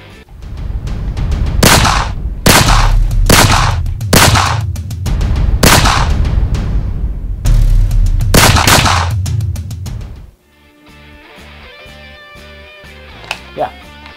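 A cheap CO2 gun fires a rapid series of loud, sharp shots in bursts over about ten seconds, close by, followed by quieter background noise with a faint tone.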